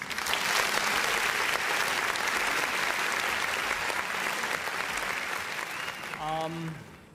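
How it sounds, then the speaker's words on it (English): Sustained applause from an audience at a UAAP Season 88 basketball press conference, a steady dense wash of clapping for several seconds that fades out, followed by a brief voice at the end. "Everyone, please give a round of applause to UAAP Executive Director, Attorney Rebo Sagisag, who will be delivering the closing remarks."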